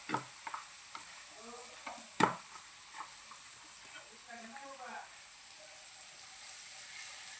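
Poha with peas and potato stirred in a pan, a faint low sizzle under soft scraping strokes, with one sharp clank of the spoon against the pan early on.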